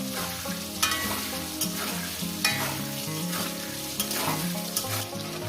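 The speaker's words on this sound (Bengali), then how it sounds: "আলুগুলো দিয়ে দিলাম আলুগুলোকে ভেজে আমি লাল লাল করে তুলে নেব" Potato pieces frying in oil for a jackfruit curry give a steady, close sizzle, broken every second or so by sharp scrapes of a stirring spoon against the pan.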